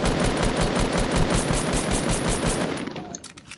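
Rapid automatic gunfire rattles without a break for about three seconds in a video game, loud and dense, then cuts off into a few scattered shots.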